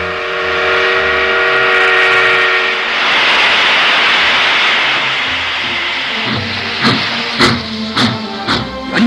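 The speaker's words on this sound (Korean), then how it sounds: "드디어 정전 후 단 12시간 만에 첫 기적 소리가 메아리 쳤습니다." Steam train whistle sounding as a loud, sustained tonal blast that echoes and fades into rumbling noise, followed by rhythmic clanking and chuffing of railway cars starting to move.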